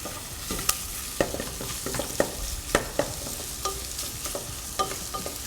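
Guanciale, pork and vegetables fry in a pan with a steady close sizzle, punctuated every second or so by sharp scraping knocks of a utensil stirring the food, with no voices.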